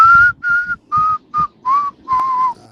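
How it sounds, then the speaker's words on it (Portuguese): A caller on a sports radio show whistles the Ponte Preta football club anthem, a clear melodic line in six sustained phrases separated by short breaths, close and loud with faint low background hum. "Você, bugrina, assobiar o hino da ponte."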